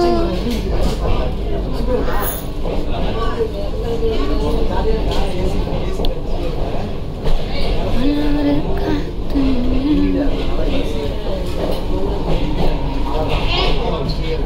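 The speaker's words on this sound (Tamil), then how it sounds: "மீனம்பாக்கம் மெட்ரோ வந்து இறங்கியாச்சு" A Chennai metro train at Meenambakkam station gives a constant loud rumble and rolling hum, with people talking over it throughout.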